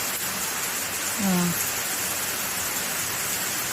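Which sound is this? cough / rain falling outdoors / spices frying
rain falling outdoors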